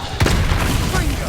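A Confringo blasting curse detonating in Hogwarts Legacy, a loud booming blast with a sustained rumbling tail, dense and close.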